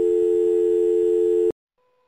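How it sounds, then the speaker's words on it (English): A steady electronic tone from a phone's voicemail line holds loud and unbroken for about a second and a half, then cuts off abruptly into near silence. "No, it just beeps."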